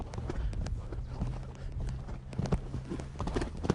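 Soft rhythmic hoofbeats of a horse cantering on soft ground during a riding lesson, steady repeated thuds with some faint background noise.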